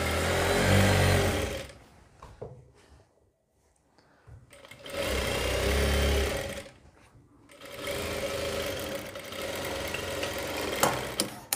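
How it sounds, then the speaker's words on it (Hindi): A sewing machine runs a stitching pass along a heavy pant seam in three loud bursts, each a steady mechanical whir, broken by short quiet pauses while the cloth is handled. "ये एक सिलाई लगा ली इसी तरीके से हम इस पर दूसरी सिलाई लगाएंगे"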